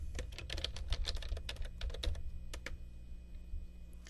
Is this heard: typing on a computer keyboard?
yes